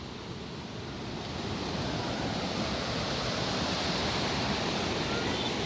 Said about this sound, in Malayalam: ഈ മുകളിൽ നിന്ന് ഒഴുകി വരുന്ന വെള്ളച്ചാട്ടം